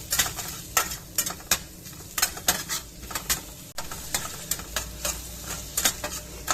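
Garlic and onion frying in a pan for bolognese sauce: a soft background sizzle broken by frequent clinks and scrapes of a utensil stirring against the pan, at moderate volume with no talking.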